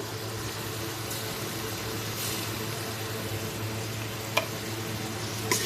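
Spices and ingredients for black chana pulao sizzling as they roast in a pan, a steady close frying hiss with a low hum underneath and a couple of small clicks.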